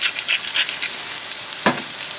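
Chanterelle mushrooms sear in a hot pan with salt and pepper, giving a steady close sizzle with scattered crackles and a sharper pop near the end.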